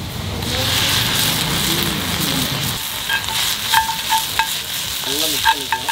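Ginger garlic paste frying in a cast iron pan over a rocket stove, a steady close sizzle with occasional stirring clinks and scrapes, while a voice talks in the first half and briefly later.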